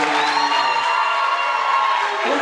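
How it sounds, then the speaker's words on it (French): An audience at a French school debate event cheers and whoops over applause, a loud bright crowd roar holding steady throughout. "Est-ce qu'on peut applaudir François Dessin?"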